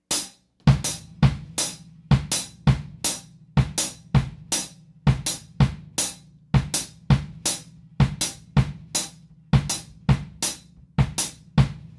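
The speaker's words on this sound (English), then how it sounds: "the bass drum is what in Latin music is called the bombo" Bass drum, called the bombo in Latin music, thumping steady quarter notes, each punchy low hit followed by a crisp high strike, close and evenly spaced with no talk.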